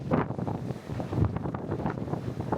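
Strong wind buffets the open deck of the Sapphire Princess cruise ship at sea, a steady loud roar with gusty rumbling against the microphone throughout, no talking.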